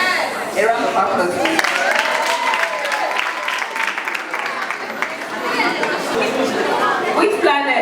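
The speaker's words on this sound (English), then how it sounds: "A round of applause." A group claps and cheers at a secondary school quiz session, with lively chatter and voices mixed into the applause from start to finish.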